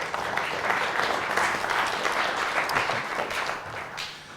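Audience at a round-table panel on Lisp and AI giving the panelists a round of applause, a steady crackle of many hands clapping that swells and then tapers slightly toward the end.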